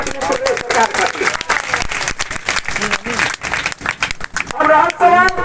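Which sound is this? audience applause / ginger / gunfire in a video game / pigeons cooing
audience applause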